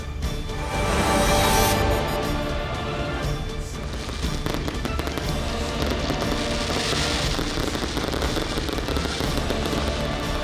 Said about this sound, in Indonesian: Kemeriahan malam pergantian tahun diwarnai dengan pesta kembang api yang dipusatkan di lapangan Borasi Manokwari, Papua Barat.